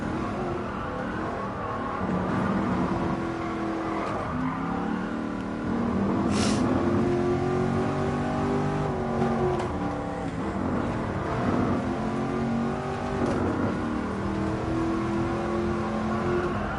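A Mercedes Black Series engine drones and revs steadily at speed on the Nürburgring, pitch rising and falling through gear changes, heard from inside over constant road noise.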